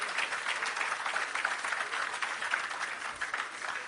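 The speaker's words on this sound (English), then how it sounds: "That deserves a big round of applause." An outdoor crowd applauds at the opening of an agro park in Clarendon, Jamaica, giving a steady, fairly distant patter of many hands clapping for several seconds with no speech over it.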